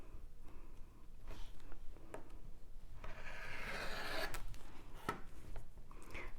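Scissors snip through fabric to cut fringe for a zipper tassel, giving a few close, dry crunching and rustling cuts, the longest stretch in the middle, with no talking.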